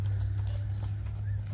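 Hooves of an Arabian horse clip-clop steadily during bridle training, soft repeated footfalls over a constant low hum and broad background noise, with no voices.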